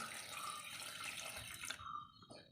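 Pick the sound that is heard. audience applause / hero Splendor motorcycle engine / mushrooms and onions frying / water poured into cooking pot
water poured into cooking pot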